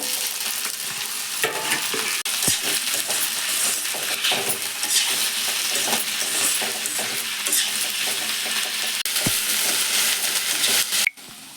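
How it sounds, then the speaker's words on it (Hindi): Okra going into onions frying in a pan, with a continuous close sizzle, soft stirring, and light clinks, ending in a brief clatter and a sudden drop in sound. "अब प्याज पक गए संगवारी हो, अब भिंडी डालबो।"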